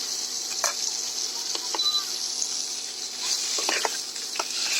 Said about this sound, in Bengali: তার জন্য আমি কাঁকড়াগুলোকে ভেজে নিচ্ছি।